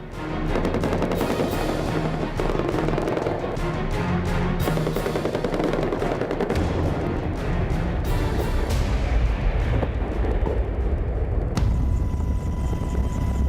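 US Army military helicopter attacking a hillside Taliban base, rotor noise under dense bursts of machine-gun and heavier weapons fire, loud and continuous with sharp impacts throughout.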